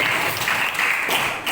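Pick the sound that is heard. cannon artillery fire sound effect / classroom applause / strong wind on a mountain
classroom applause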